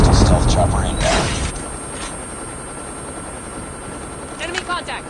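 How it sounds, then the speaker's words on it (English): Stealth chopper from Call of Duty Mobile multiplayer: a loud whooshing rotor and engine wash with bursts of noise, strongest at the start, then fading under a continuing mechanical hum, with a brief flare near the end. "Be advised, hostile stealth chopper inbound."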